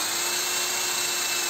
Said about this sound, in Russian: мы рассверлили наше отверстие